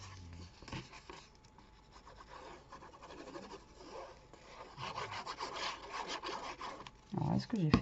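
Paper being cut and scratched for a zigzag scrapbook album, a faint rough rubbing and scraping that continues throughout, growing somewhat louder toward the end with a soft voice briefly audible.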